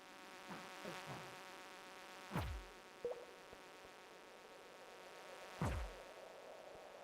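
Small bugs buzzing in the farming game Journey to Romance, a faint continuous hum with a few brief sharper buzzes passing close at intervals.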